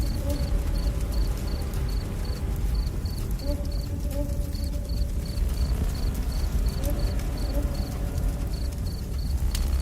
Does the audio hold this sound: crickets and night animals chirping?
yes